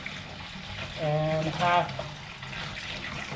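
Water pours into a brew pot for a double IPA mash, running steadily under a voice with a brief gurgling rise.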